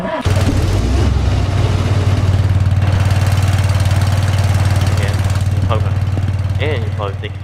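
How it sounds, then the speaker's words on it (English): Vehicle engine in a Roblox driving game, A Long Road: a loud, steady low idling hum with a constant rumbling tone throughout, while a voice talks over it and fades near the end. "ah man, I gotta restart the engine."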